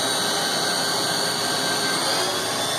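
The spindle of a HAAS VF-2 CNC milling machine spinning at 7,000 RPM, a smooth, steady high-pitched whine with a whooshing hum, close and constant.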